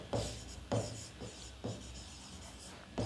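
A pen scratches across paper while maths is worked out in a lesson on ellipses, with repeated rubbing strokes starting roughly every second, close and steady over a faint background hiss.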